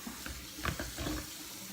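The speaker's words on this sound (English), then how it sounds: "I'm back and I'm washing my hands again" Hands being rinsed under a running kitchen tap, a steady close splash of flowing water with small bursts as the hands move through the stream, with no talking.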